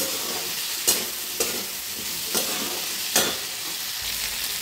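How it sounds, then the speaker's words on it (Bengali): Taro pieces stir-fried in hot oil in a pan, with a continuous close sizzle broken by four or five regular scraping strokes of a spoon or spatula. "কিন্তু আমি একবারে কষেই রান্নাটা করছি"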